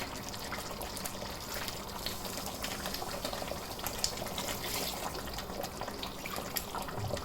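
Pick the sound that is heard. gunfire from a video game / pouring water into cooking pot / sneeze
pouring water into cooking pot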